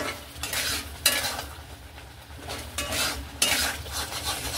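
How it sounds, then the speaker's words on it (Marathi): Spoon stirring vinegar through a pan of homemade Schezwan chutney, a scraping, wet mixing sound in repeated strokes with a faint sizzle beneath, close and moderately quiet, no talking. "आणि विनेगर पण सगळं ह्या चटणीमध्ये असं मिक्स करून घ्यायचं"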